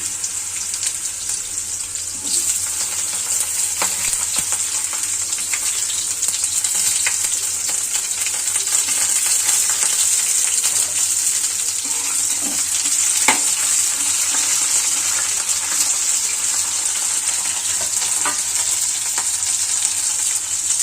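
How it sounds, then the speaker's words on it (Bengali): Sliced bitter gourd frying in a pan gives a loud, even, continuous sizzle close by, with occasional faint clicks of a utensil. "এখন উচ্ছেটা ভাজবো"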